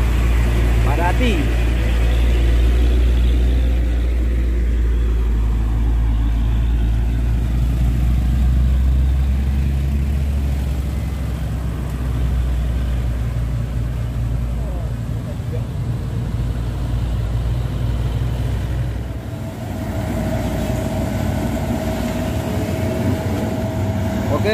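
Trailer truck engine labouring to push an L300 pickup up a steep incline, a heavy low drone that holds steady and dips briefly near the end, with people talking over it throughout.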